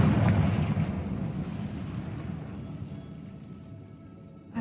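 A Confringo fire-blast spell cast in Hogwarts Legacy sets off a heavy booming blast that rolls out and slowly fades over several seconds, loud and close with no talk over it.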